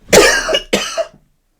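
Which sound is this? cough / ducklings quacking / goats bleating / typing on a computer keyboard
cough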